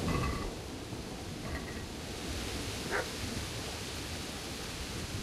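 A few faint dog barks sound in the medieval game Kingdom Come Deliverance, a short burst at the start and single yelps later, half-buried under a steady hiss of ambient noise.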